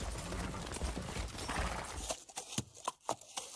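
Foley horse hooves for a Game of Thrones production, made with custom-built hoof props, clop in a run of sharp, distinct knocks after a dense noisy stretch, close and fairly loud.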